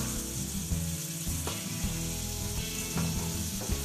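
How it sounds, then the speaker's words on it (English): Lamb forequarter browning in a hot pan gives a steady close sizzle and fry crackle throughout, with a few small scraping knocks and no talk over it. "Now we just want to brown that all the way around."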